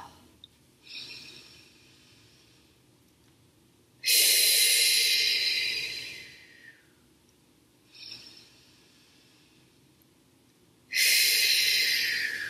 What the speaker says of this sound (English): So take a nice deep breath into your stomach